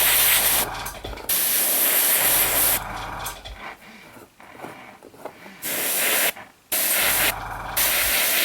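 Spray paint hisses in several light coats over N gauge china clay model wagons, loud close bursts of a few seconds each separated by short pauses, with no voices.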